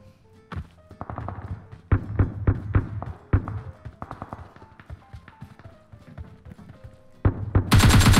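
Rapid bursts of gunfire in PUBG Mobile, sharp close shots in irregular volleys with a denser automatic burst near the end, loud and dominant with little else underneath.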